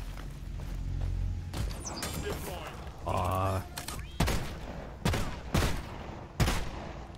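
Gunfire in the video game Deep Rock Galactic, several sharp shots and short bursts spaced over a few seconds amid mechanical game sounds, with a voice talking beneath.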